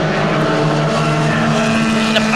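Formula Vee single-seat race cars roar loud and close at a festival final, a sustained engine drone with steady tonal harmonics as they brake into a corner, with no voices over it.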